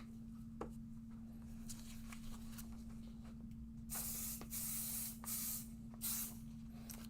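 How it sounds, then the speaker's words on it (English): Pixie spray misted from a hand spray bottle, several quick hissing spritzes in close succession, crisp and near over a low steady hum, with no talking. "let me grab my pixie spray"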